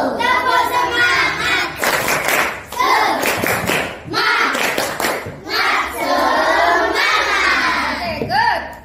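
A school class performing a rhythmic clapping chant, children clapping in group bursts and shouting the words together, loud and close with short pauses between phrases.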